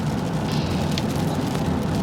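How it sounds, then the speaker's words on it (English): Heavy pouring rain drums steadily on a moving car, a dense, even wash of noise over a low road rumble that continues without a break or any talking. "it's pouring rain right now"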